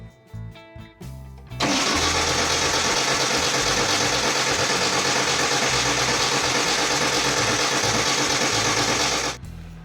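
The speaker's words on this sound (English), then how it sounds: "with the ignition off, I'm going to hit the start button for a couple of seconds and see if we can get some oil pressure" A Van Diemen RF96K Formula Ford race car engine cranks on its starter with the ignition off, a steady, loud, fast mechanical churning that runs about eight seconds without firing, preceded by brief clicks.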